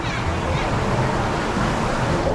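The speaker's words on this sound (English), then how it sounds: "The waves obviously just been released behind us" Released waves surging down the wave river at Universal's Volcano Bay water park in Orlando, a steady close rush of churning water and surf that stays loud and broadband throughout, with some wind noise on the microphone.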